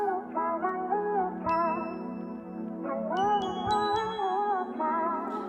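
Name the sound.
synthesized bell sound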